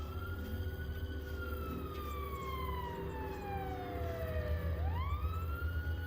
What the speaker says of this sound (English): that siren is coming from the game